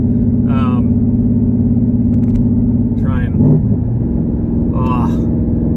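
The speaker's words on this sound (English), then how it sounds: "Those rev match downshifts just sound so good." Car exhaust with electric cutouts open, a deep continuous rumble with a brief rev blip during rev-matched downshifts, loud and close beneath intermittent talking.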